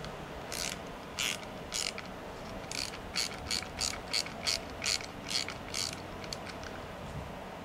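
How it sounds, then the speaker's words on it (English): An 8mm socket ratchet removes the nuts from an e-bike rear light, making a steady series of quick clicking bursts, close and fairly quiet, over low background hum. "there are two nuts, which you can use a 8mm socket to release."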